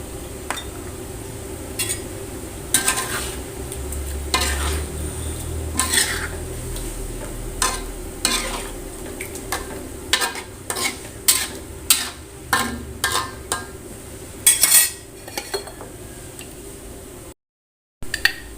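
Tofu fries in a pan with oyster sauce while a utensil stirs it, making repeated close scrapes and clinks against the pan over a steady sizzle, loud and rhythmic, with no talk.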